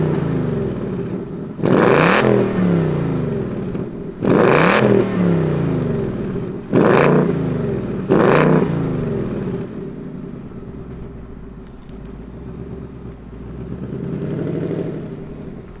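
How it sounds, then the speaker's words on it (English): A new Ford Mustang GT V8 fires up and is revved in four sharp, loud blips, each rising then falling back to a deep, steady idle that settles and rumbles on, with no talking. "let's fire up this Mustang GT and hear what it sounds like"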